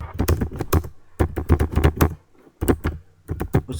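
A computer keyboard rattles through a SQL DROP TABLE command, typed in quick bursts of clustered keystrokes with short pauses between them, close and fairly loud, with no talking.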